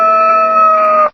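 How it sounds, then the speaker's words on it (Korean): A rooster crows once, loud and close, a single sustained call lasting about a second, with no voices over it. "싸움에 이긴 수탉은 지붕 위에 올라가서 큰 소리로 만세를 불렀지요."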